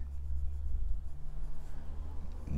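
A Moonman M2 fountain pen with a fude nib writes on paper, producing a faint, steady scratching under low background hum.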